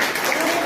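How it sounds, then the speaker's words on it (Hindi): Audience applause at a business presentation in India, a brief, dense burst of many hands clapping that stays steady and fairly loud from start to finish. "एक बार उसकी ताली बजाई।"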